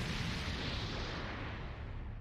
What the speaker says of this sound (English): Now, how big is this explosion?